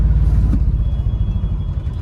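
Heavy road traffic with cars and container trucks, a loud, close, continuous low engine rumble heard from inside a truck, with no talking.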